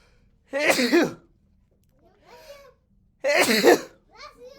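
Two sharp, explosive sneezes close to the microphone, a couple of seconds apart, each followed by a softer breathy sound.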